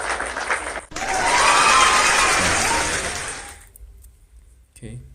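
A classroom of students bursts into loud clapping and cheering for a classmate during a grade 11–12 algebra lesson, swelling quickly, then fading out to near silence with a brief noise at the end.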